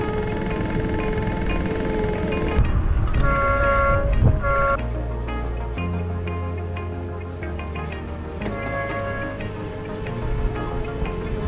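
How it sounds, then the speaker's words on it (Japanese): A toy horn on a playground ride vehicle in an amusement park sounds in short tonal toots over steady outdoor background noise and ride hum. "これクラクション。"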